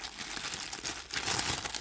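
Plastic wrapping crinkles and rustles as a Walmart Birkin-style faux-leather handbag is partly unwrapped, a close, continuous crumpling with small tearing sounds and no talk.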